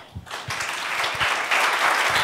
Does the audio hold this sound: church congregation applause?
yes